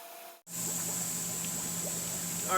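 A pool filter pump feeding a spray bar starts up after a brief silence, then holds a steady, close mechanical hum with water rushing through the plumbing.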